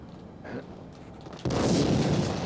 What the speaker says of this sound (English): So you can blow up barrels in here.